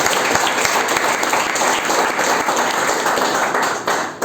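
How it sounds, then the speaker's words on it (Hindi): An audience at an MLM business seminar claps together in loud, dense, sustained applause that fills the room for several seconds before tapering slightly at the end. "तो एक ताली अपने लिए।"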